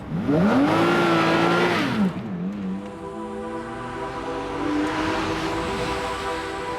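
A Lamborghini Murcielago on the move: the engine note climbs and holds, drops away, then settles into a steady drone that swells again toward the end. It sounds fairly close, with no speech.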